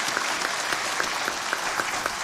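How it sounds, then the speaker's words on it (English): A crowd at the opening of the AMECEA Plenary Assembly, an East African Episcopal Conference gathering, applauds the chief guest with dense, steady clapping and a few sharper claps standing out, continuous throughout. "Kindly let us applaud our chief guest once more."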